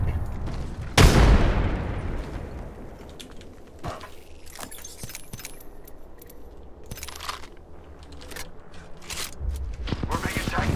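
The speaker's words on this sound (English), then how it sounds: "Frag grenade set." A frag grenade goes off in a shooter game as one sharp, heavy blast early on, followed by scattered clicks, rattles and gunfire-like cracks while voices talk over the action.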